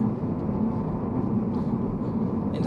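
Volvo V40 engine pulling under open throttle while driving, a dense, steady, rumbling drone with road noise, loud and close throughout.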